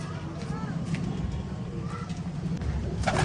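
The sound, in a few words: pigeons cooing in a loft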